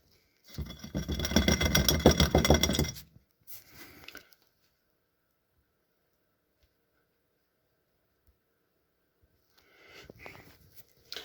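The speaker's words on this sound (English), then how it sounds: "I'll just gently blow on that now" A few seconds of close, breathy blowing over a bowl of amaranth seeds to clear the chaff, a soft rushing gust followed by a faint puff, then near silence and a brief rustle.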